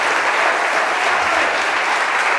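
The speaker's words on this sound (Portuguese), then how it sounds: "Você pode aplaudir o Senhor Marcos, Deus abençoe." Dense church congregation applause, loud and even throughout, many hands clapping together with no break.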